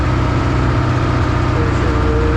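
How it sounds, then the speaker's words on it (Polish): A concrete mixer's small engine running at raised revs, around 1850 rpm, and sounding strained, a steady loud close drone with no talking over it. "1850 e, już czuć, że ten silnik jest złabiony"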